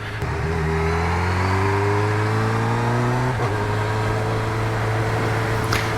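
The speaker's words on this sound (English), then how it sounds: "This quick shifter is an absolute dream. With the auto blip on the way down, hasn't missed a beat." 2021 Honda CB1000R Black Edition engine under way, climbing steadily through several quick-shifted gears, then an auto-blipped downshift gives a sharp rev flare before the steady drone resumes, close and loud with wind rush.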